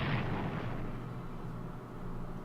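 A bombing run on a port in the wartime strategy game Strategic Command, heard as one deep explosion that bursts at the start and leaves a long, low rumbling tail, fairly quiet overall.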